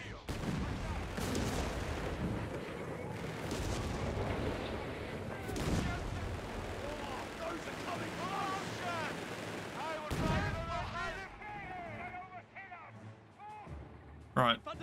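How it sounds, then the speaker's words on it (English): Repeated artillery fire booms in Company of Heroes 3, a North African campaign battle, some near and loud, others duller and farther off, with gunfire mixed in and someone talking over much of it. "Dude, enemy artillery. We're in the enemy artillery zone, I think."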